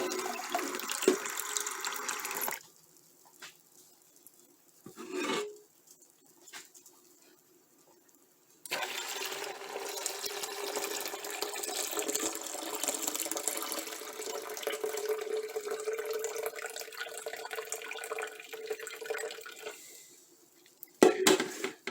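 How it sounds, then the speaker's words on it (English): Water from a tap splashes into a pitcher over a tea bag in a kitchen sink, coming in bursts with pauses and then a long steady pour, with light clinks of glass or dishes. "by pouring water over the tea bag."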